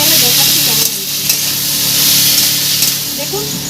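Ridge gourd frying with salt in a pan, a loud continuous sizzle with occasional scraping as it is stirred, while someone talks over it.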